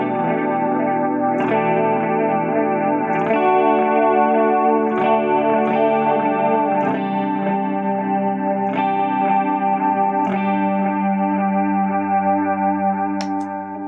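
An electric guitar through a VSN echo delay pedal with chorus engaged rings out in strummed and picked chords, each attack shimmering and repeating in soft echoes, steady and close with no talking.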